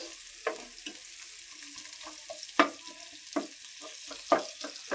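Onion and chili frying in a pan for a pumpkin and fish dish, with a steady soft sizzle under repeated sharp clinks and scrapes of a utensil stirring, moderately close and without talk.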